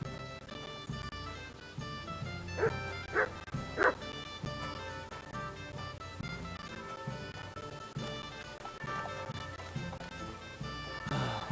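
A dog in the medieval role-playing game Kingdom Come: Deliverance II yips and whimpers in a few short bursts around the middle, set against a steady bed of game music and ambience.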